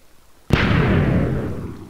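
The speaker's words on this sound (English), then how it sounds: "So you can see, pushes out, lights it, cannonball drops, shoots it out" A single loud blast from an automatic TNT cannon in a video game, sudden and close, with a booming rumble that fades over about a second.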